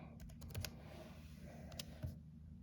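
Typing on a Chromebook keyboard, faint and close. Two quick clusters of soft key taps are separated by a pause, over a low background hum.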